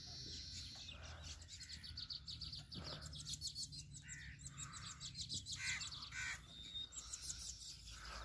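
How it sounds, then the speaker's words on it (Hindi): Asian koel calling in a rural village by canals, with repeated bright calls over a steady chorus of other birds and insects in an open outdoor setting. "माशाल्लाह कोयल की आवाज़।"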